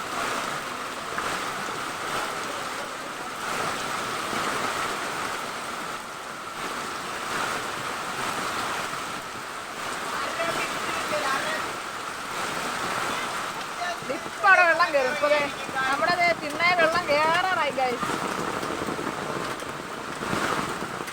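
Steady rushing floodwater from the overflowing Meenachil River with a constant hiss of rain, continuing throughout; faint voices may sit beneath, and some brief chirping sounds appear near the end.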